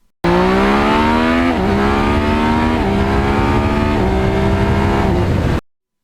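A 2020 Yamaha MT-09 motorcycle engine pulls hard through several gears, loud and close, rising in pitch with each upshift, a rapid run of roaring climbs that stops abruptly.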